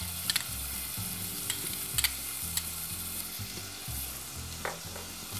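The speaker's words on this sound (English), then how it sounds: "Now that our onion is almost there, we can go ahead and add just a little bit of shaved raw garlic to the onion." Onion with a little shaved raw garlic sizzles in a pan, making a steady soft frying hiss with a few clicks of a utensil on the pan and no talking.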